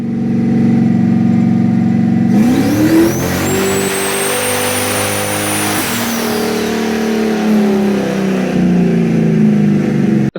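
A turbocharged car on a dyno revs hard through a long pull, engine pitch climbing steadily for several seconds before dropping off, with a whining turbo tone rising above a loud, close roar.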